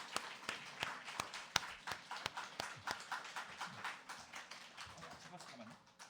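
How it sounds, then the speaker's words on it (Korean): A church congregation claps in welcome during a Sunday worship service, a faint, steady patter of sharp individual claps spread across the room, with people talking over it. "우리 환영의 박수 하겠습니다."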